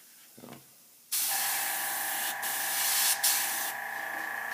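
An airbrush sprays paint while hair is painted on a warrior girl figure, a steady loud hiss that starts abruptly after a faint rustle and holds with slight swells.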